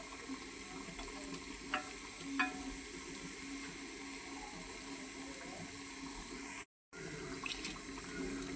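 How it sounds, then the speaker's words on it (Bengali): Beguni, eggplant fritters, frying in hot oil in a home kitchen, producing a faint, steady hissing sizzle with a couple of small spatter pops and a brief dropout midway. "এখন আমি আগে বেগুনিগুলি ভাইজা নিতেছি।"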